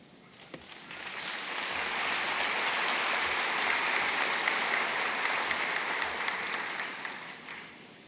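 A large crowd applauds at a spring university commencement ceremony. The clapping swells into a dense, sustained roar of many hands, holds steady, then gradually tapers off.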